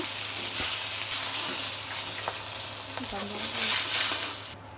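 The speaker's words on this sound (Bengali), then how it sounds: "বাকি যে মাছগুলো ছিল ওই মাছগুলো এবার আমি ভেজে নেবো" Rohu fish sizzles steadily in hot oil, a loud continuous crackling hiss with occasional pops, cutting off abruptly at the end.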